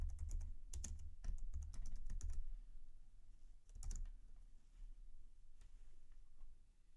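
Typing on a computer keyboard on a Mac, with a quick burst of key clicks at the start, a pause, then another short flurry and a few scattered taps, close and fairly quiet.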